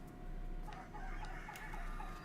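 Hens cluck and a rooster crows in a farmyard scene of a video game, a steady run of repeated clucks and calls over a constant background hum with no talking.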